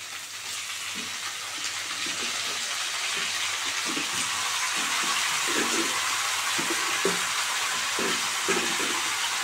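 Boiled taro leaves (kachu shak) fry in a pan with ginger and chilli, giving a steady broadband sizzle with soft stirring scrapes scattered throughout, close and continuous with no voices.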